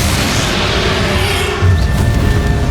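Bombarda spell explosion in the video game Hogwarts Legacy, a deep booming blast that lands partway through over continuous loud game ambience.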